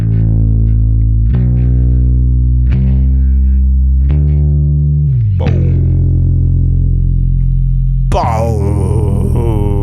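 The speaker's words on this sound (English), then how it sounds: "we have some more guitar lines, but they're pitched down so they sound like a bass guitar" Deep, bass-like guitar notes plucked one after another, each ringing out with a distorted, effected tone, ending in a brighter swell.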